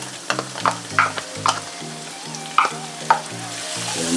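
Tomatoes and onion frying in a pan for ackee and saltfish, a steady sizzle broken by repeated clicks and scrapes of stirring, with a soft melodic tone running underneath.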